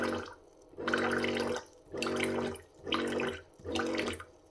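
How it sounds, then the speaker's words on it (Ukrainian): Water from a drink dispenser pours fast in four separate gushes, each lasting close to a second with short quiet gaps between, loud and near with no voices. "Дивіться, наскільки швидко лиє воду."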